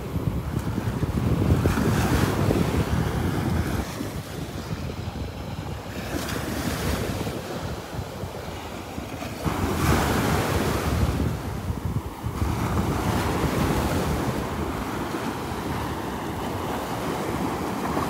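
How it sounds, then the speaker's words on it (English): Small ocean waves wash onto Vanderbilt Beach on a morning walk, a continuous surging rush with swells every few seconds, steady and fairly loud, mixed with wind noise on the microphone. "They are nice little waves this morning, don't they?"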